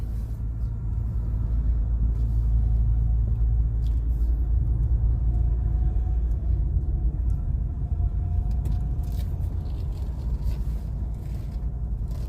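An amphibious duck tour vehicle drives along a road in the Wisconsin Dells, its engine giving a steady, loud low rumble close by that holds evenly throughout.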